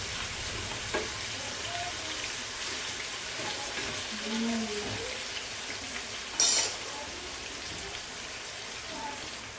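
Chicken 65 fries in a small amount of oil, a steady soft sizzle with light crackles and a brief louder spatter near the end, with faint background voices.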